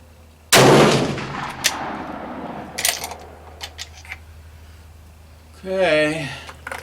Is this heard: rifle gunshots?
yes